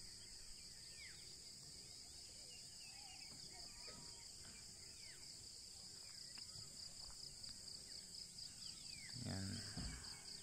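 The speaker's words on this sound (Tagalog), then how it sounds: "Puro ingay ng mga ibon yung maririnig mo. Iba't ibang klaseng ingay." Various birds chirp and call faintly outdoors on Digo's Hill, their scattered short calls rising over a constant high insect drone, with a voice briefly speaking near the end.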